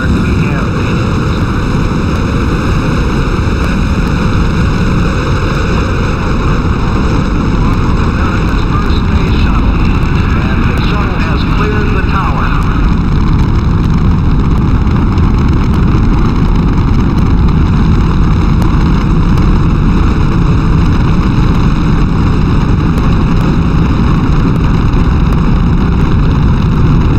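Space Shuttle main engines at the STS-1 launch roar as a steady, dense broadband rumble, very loud and unbroken throughout, with faint speech buried beneath.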